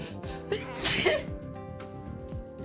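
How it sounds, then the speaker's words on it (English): A single loud, close sneeze from one person, a sharp burst with a brief intake of breath just before it, followed by quieter breathy noises. "God damn, I gotta sneeze."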